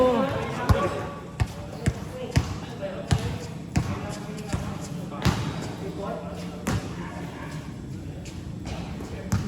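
Repeated thumps of a basketball bouncing on a hard floor in an uneven rhythm during a club basketball game, with people talking throughout.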